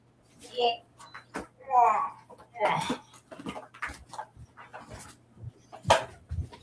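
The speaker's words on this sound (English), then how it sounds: "Now we gotta pull out the dog" A 12-year-old pit bull pants and whimpers close by, with short breathy bursts and whines in an uneven rhythm, while people talk around her.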